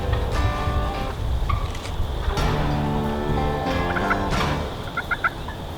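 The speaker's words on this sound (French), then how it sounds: "Le dindon est un gibier méfiant," A wild turkey gobbles loudly and close several times in quick, rattling bursts, with a few softer clucks trailing off near the end.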